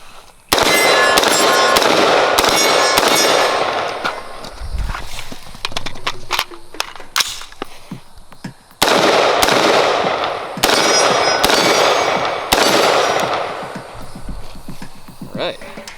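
Bullpup rifle fire during a cold-start shooting drill: two loud clusters of rapid, sharp shots, each a run of several cracks with echoing tails, separated by a quieter stretch with scattered clanks and footsteps.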